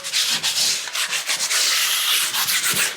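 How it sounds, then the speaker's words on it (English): Sandpaper rubbed by hand across a sealed lounge wall, a continuous close, loud scratchy rasp in quick back-and-forth strokes with no speech. "If you see anything on the wall that might just want rubbing off, have a little bit of sandpaper in your pocket."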